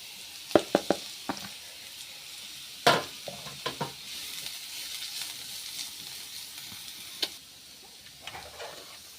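Ginger, garlic, onion and carrot are stirred as they fry in a pan for veg momos, with a steady close sizzle under repeated sharp knocks and scrapes of a spatula against the pan.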